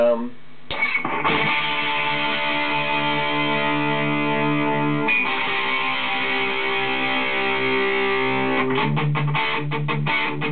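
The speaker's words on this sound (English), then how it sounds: "a kind of fat, kind of almost metal distortion tone" Thick, heavily distorted electric guitar chords played through stacked distortion pedals ring out loud and sustained, with a fat, fuzzy, saturated metal-style tone and a few chord changes.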